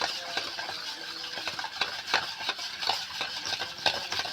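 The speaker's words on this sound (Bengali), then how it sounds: "এই চিনি তেল এগুলো আমি প্রথমে ভালো করে ফেটে নেব" A whisk or spoon beats sugar and oil together in a bowl for a biscuit dough, making steady, rhythmic scraping clicks close up, alone without any talk.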